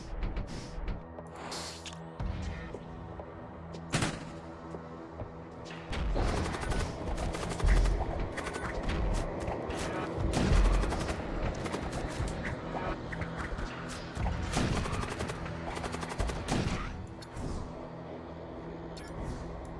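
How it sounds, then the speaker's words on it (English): A raider ship opens fire in the space game Void War, a dense run of gunfire bursts and crashing impacts over a low hum, loud and irregular, with several heavy booms clustered in the middle. "They open fire."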